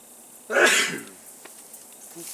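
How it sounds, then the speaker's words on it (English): One sharp, loud allergy sneeze bursts out close by, then fades into a quiet room with faint background noise. "Ooh, the allergy's kicking up nicely. Got to sneeze good."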